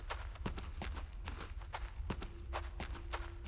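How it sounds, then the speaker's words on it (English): Footsteps in the video game Orebound, a run of evenly spaced thudding steps repeating steadily throughout at moderate loudness, with no talk over them. "I can hear more footsteps again, so I think we're going to have some more company soon."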